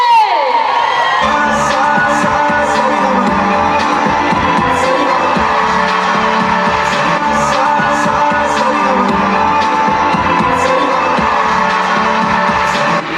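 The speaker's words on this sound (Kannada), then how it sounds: "ಬನ್ನಿ ಜೋರಾದ ಚಪ್ಪಾಳೆ." A large crowd at a cultural program cheers, whoops and shouts for a singer, the Sa Re Ga Ma Pa season 13 winner from Jevargi, loud and continuous with children's voices and bursts of yelling.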